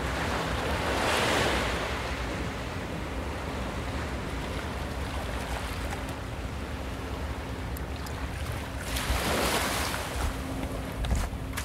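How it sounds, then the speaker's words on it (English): Steady roar of ocean surf with waves swelling and breaking on the shore of Catalina Island, carried on gusty wind, no voices. "We went to Catalina Island, where Natalie drowned, and recorded the ocean."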